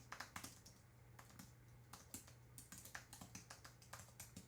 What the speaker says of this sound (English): Bit of typing here.